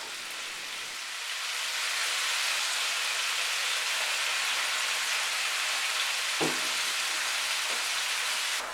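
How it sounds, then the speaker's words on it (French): Tomatoes, black pepper, salt and lemon juice simmering gently in a pan over low heat: a steady soft sizzle and hiss runs throughout, with one brief clatter near the end. "Sur feu doux, on laissera mijoter quelques instants et on retirera directement."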